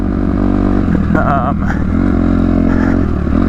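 Dirt bike engine droning loudly and steadily up close as the ride gets underway, with a brief rising rev and some clatter, while a rider talks over it.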